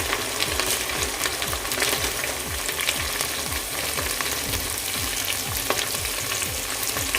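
Sliced onion frying in an open pan until golden brown, a loud, dense, continuous sizzle with rapid crackling throughout and a steady rhythmic stirring scrape beneath it.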